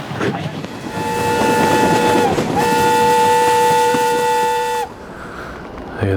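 A train with a steam-style horn or whistle, somewhere in Croatia, sounds loudly and close in a long held multi-tone blast with a short break, over the steady rumble of rolling rail cars.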